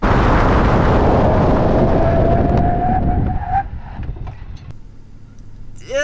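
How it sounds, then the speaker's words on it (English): A 2022 Infiniti QX80 SUV brakes hard on snow during a braking test, tires skidding in a loud, rushing roar with a falling whine that fades out after about four seconds, followed by quieter rumbling. "It's time for the braking test."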